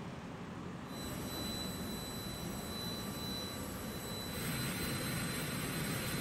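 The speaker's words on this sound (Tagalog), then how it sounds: "lumapag sa bansa ang eroplanong sinakyan ni dating Mayor Alice Go kaninang 1:10 a.m." A passenger airplane's jet engines roar as it lands, a constant broad rushing noise with thin high whines that swells louder toward the end, with no talk.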